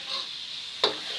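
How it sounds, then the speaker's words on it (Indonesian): Oil heating in a wok before frying rice gives a steady soft sizzle, with a brief louder hiss or stir-scrape burst near the end. "panaskan wajan dulu dengan minyak ya"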